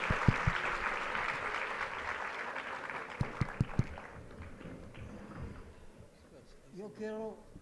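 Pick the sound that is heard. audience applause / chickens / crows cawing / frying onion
audience applause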